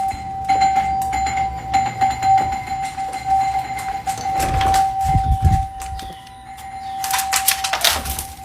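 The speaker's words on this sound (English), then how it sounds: "shows her dog agitated due to the bell at the front door getting bashed with constant ringing" Doorbell at a front door rung over and over, a steady electronic tone sounding again and again with sharp knocks and rattling mixed in, near and fairly loud throughout.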